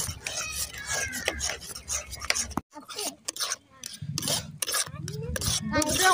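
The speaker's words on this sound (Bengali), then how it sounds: "এইভাবে নেড়ে নেড়ে আরও ঘন করে নেবো" A spoon scrapes and stirs milk as it thickens in a pan for sandesh, producing repeated rasping strokes and occasional clinks, with a person talking over the stirring.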